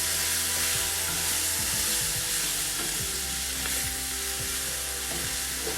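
Sausage sizzles and fries steadily in a hot pan while a paddle stirs it, with scraping, clattering strokes of the paddle over a dense, continuous crackle, close up and with no talking.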